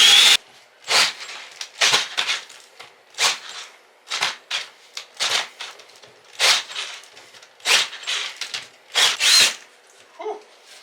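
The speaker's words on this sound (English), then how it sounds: "So it's much harder to drill through with a hole saw compared to like trying to do OSB or anything like that." A drill fitted with a hole saw bores through a tough wall during an indoor air-conditioner install, cutting in about a dozen short grinding bursts separated by pauses, fairly close and loud.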